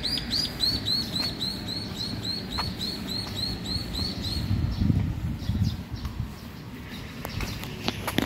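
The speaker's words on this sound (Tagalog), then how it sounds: "Tingnan mo tagmaya. A bird oh." Sparrow chirping on a Korean street, a quick run of repeated bright tweets at the start, then sparser calls over street noise and scattered footsteps.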